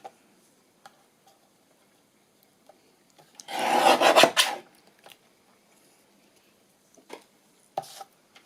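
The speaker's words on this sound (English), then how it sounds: "Let's just trim this up a bit." Trimming a paper Christmas gift tag, a short rasping cut about a second long, close by, with scattered small clicks and taps before and after.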